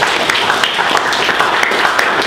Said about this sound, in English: A round of applause for appreciate all our